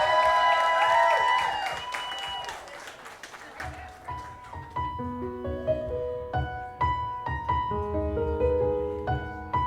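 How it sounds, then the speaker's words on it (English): Wedding guests applauding the father of the bride at the start of the father and daughter dance, a burst of clapping and crowd noise that fades as music takes over. "Let's give him a round of applause."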